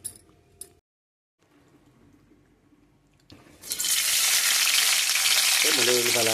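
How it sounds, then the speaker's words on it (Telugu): After a few quiet seconds, ginger garlic paste for chicken curry hits the hot pan and bursts into a loud, close, sustained sizzle, with a voice briefly speaking over it near the end. "అల్లం వెల్లుల్లి పేస్టు"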